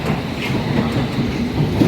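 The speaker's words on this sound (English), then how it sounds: "This is our first train." A London Underground Hammersmith & City line subsurface train rumbles loudly, with a rhythmic clatter of wheels on track and faint squeals, heard from inside a carriage.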